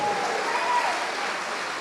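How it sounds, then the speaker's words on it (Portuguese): Dense, steady applause from a large crowd fills the whole moment, with a faint tone drifting through it. "vamos aplaudir mais ao Senhor"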